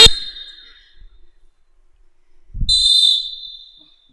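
Two sharp referee whistle blasts on a practice field during an officiating drill, a short one at the start and a longer, louder one about two seconds later, with quiet between.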